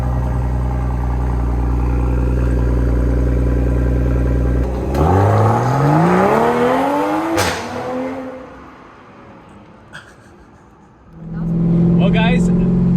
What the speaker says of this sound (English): Let's get an exhaust clip of a stock Supra.